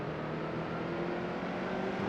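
A stock car engine at Martinsville in the NASCAR Heat 2 video game, holding a steady, droning roar at high revs, close and continuous with no voices.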